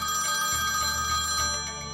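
A virtual phone rings inside a video game, a steady electronic ringtone that repeats for about two seconds at a fairly loud, even level with no voices.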